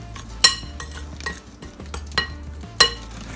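A spoon stirs keto meat pie filling in a pan, with a faint background sizzle and several sharp metallic clinks against the pan.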